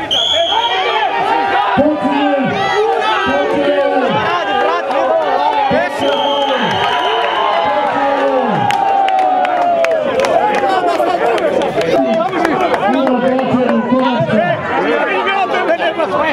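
Crowd at a village multi-sport team competition cheering for both teams, a loud continuous roar of shouting and chatter with rhythmic chanting bursts, close and dense throughout.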